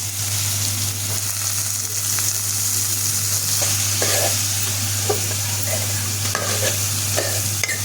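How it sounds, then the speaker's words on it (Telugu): Ridge gourd pieces fry in hot oil with a steady close sizzle, broken by a few soft stirring scrapes and clinks partway through. "ఇప్పుడు బీరకాయ ముక్కలు వేస్తాను."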